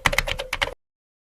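Quick burst of typing on a computer keyboard while filling in a checkout form: a close, crisp run of several keystrokes that stops abruptly into silence.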